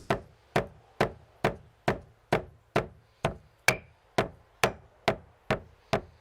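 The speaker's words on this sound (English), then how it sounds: "we grind in the mortar the bay laurel berries and the spices" Bay laurel berries and spices being pounded in a mortar for an ancient Roman roast, a steady rhythm of about fourteen sharp, close thuds at even intervals with nothing else heard.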